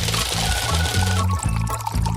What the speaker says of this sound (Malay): Gula dan air. Masukkan ke dalam periuk.